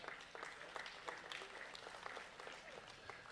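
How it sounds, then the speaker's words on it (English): Spectators at a county fair 4-H dairy cattle show give the young exhibitors a round of applause, a sustained, moderately distant clapping with scattered sharper claps and some voices mixed in. "Let's give these kids a big round of applause."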